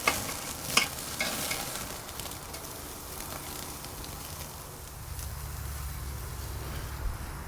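Ribeye caps searing on the grate of a Weber Jumbo Joe charcoal grill, a steady close crackling sizzle with scattered pops and a faint low hum underneath, no talking.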